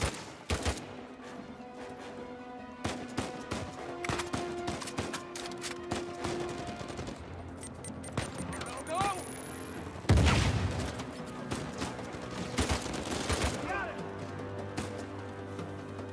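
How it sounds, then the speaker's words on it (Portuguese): Gunfire in Uncharted 4, with scattered sharp shots and short bursts ringing out over game background sound, plus a heavier blast about midway, while someone talks quietly in Portuguese. "saiu dando tiro já."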